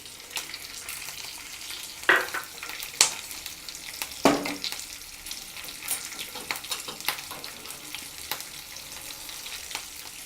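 Curry leaves and long-cut green chillies, added after cumin seeds, sputter in a pan for rice fare snacks, with a few loud crackling bursts early on over a continuous close sizzle and occasional utensil taps.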